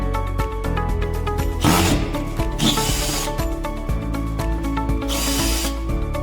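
A power screwdriver backs out ten screws from the power box of a P2.976 outdoor MX500 series LED display, giving several short whirring bursts over a steady background hum.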